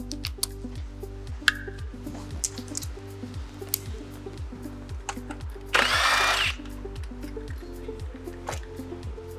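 A power tool with an 8mm socket spins out battery bolts on a CSC E-RT3 electric scooter, giving a steady whir with a fast rhythmic clatter, close and loud, plus one brief hissing burst midway.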